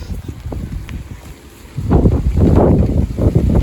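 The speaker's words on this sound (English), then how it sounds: "it's getting windy and wet again" Gusty wind roars outdoors in wet, rainy weather, rising from a steady rush into a louder, buffeting blast across the microphone in the second half.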